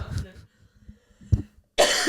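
A person imitates a coughing fit with a few short throaty coughs and gasps, followed by a louder burst of voice.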